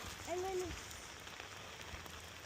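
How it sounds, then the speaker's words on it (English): Heavy rain pours onto the surface of Lake Selmac in southern Oregon, a dense steady hiss of drops on water, with a brief voice murmuring early on. "It's dumping rain."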